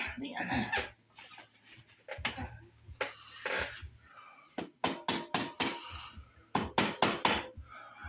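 A rubber hammer taps repeatedly on parts during a 440 big bore engine top end rebuild, giving sharp evenly spaced knocks in two quick series, with someone talking between them.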